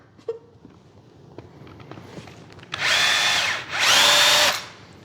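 A power drill whirs in two bursts, each about a second long and fairly loud, as it spins off a three-blade propeller on an E-flite Carbon-Z T-28 model airplane. Light clicks and handling noises come before the bursts.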